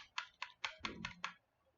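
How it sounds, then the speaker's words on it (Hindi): Six distinct arrow-key presses on a computer keyboard, evenly spaced and close, sounding as crisp clicks in quiet surroundings. "कीबोर्ड के एरो से मैं पीछे कर देता।"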